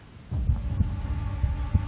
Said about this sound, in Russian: Слышишь это сердцебиение?